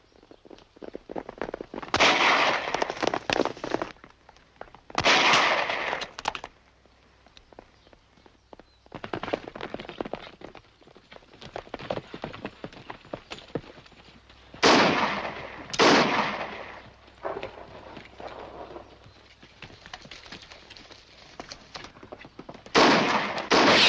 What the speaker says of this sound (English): Rifle fire.